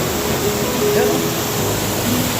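Strong river current rushing along a mountain trekking trail near waterfalls, a steady, dense roar of flowing water that holds at an even level throughout, with a faint voice underneath.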